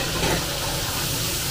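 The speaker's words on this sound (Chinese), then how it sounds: "把西红柿也炒匀" Tomatoes and green beans stir-fry over high heat in a wok, giving a dense, constant sizzle with the rustle of tossing, close and loud for a brief moment.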